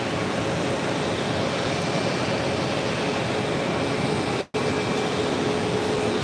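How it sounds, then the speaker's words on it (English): An Airbus A321 airliner departs from JFK, producing a steady, broad jet roar that holds loud and constant, with a brief dropout near the end. "Next departure on 4 left, American Airlines Flight 177 heading to SFO in an A321."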